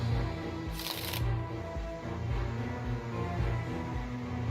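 A deck of playing cards is shuffled during a tabletop card game session, with soft, repeated riffling and bridging sounds, faint and close, over low background hum.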